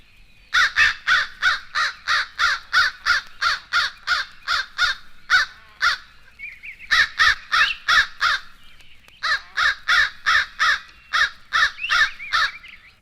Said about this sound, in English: Here is the familiar call of the eastern crow.